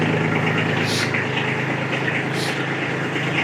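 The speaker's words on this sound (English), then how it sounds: "let me go on ahead and I'll turn the tractor on" A tractor fitted for a BH70 backhoe idles nearby with a steady, low diesel rumble, loud and even, interrupted twice by short hissing bursts.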